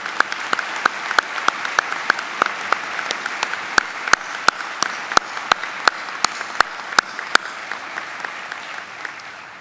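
Steady applause from an audience at a university commencement ceremony, dense clapping filling the hall throughout with sharp individual claps standing out, no voices on top.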